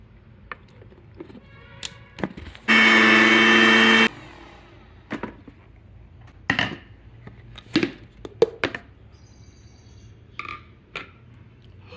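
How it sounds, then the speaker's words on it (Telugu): Mixer grinder grinding fried drumstick leaves with dried red chillies into powder, one loud steady whir of about a second and a half standing alone amid quieter kitchen knocks and clicks. "మునగాకు ఇలా మిక్సీ వేసేసుకోవాలండి"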